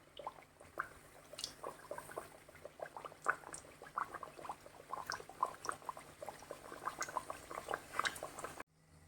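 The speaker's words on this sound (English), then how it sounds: "My oil is already hot and I will start to fry this" Goan neureos, sweet stuffed pastries, crackle and bubble in hot oil with a steady stream of fine popping and spitting, moderately close and alone, then cutting off abruptly at the end.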